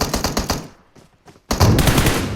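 M16A4 rifle fire in PUBG Mobile: a loud, rapid burst of shots, a short near-silent pause with a couple of faint blips, then another dense, loud burst.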